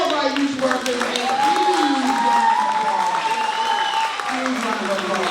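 A crowd at an end-of-year ceremony applauds its youth workers with steady, dense clapping that holds for several seconds. Scattered voices and cheers come through underneath it.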